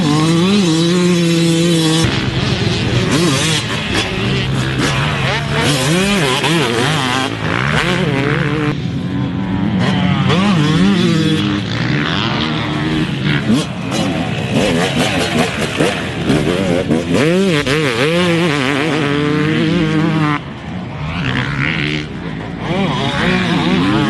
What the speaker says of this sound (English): any two-stroke is going to sound good with an FMF pipe and silencer